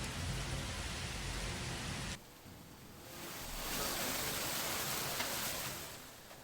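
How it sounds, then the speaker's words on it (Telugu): A hailstorm in Telangana pours rain as a dense, hissing wash of noise, heavy and continuous, briefly dropping to a softer patter before swelling again to a steady downpour. "ఇక వడగళ్ల వానలు ఎక్కువగా కురిశాయి."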